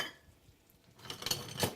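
Chopped leeks being stirred in melted butter and olive oil in a pan, heard as quiet utensil scrapes and clinks against the pan that grow louder toward the end.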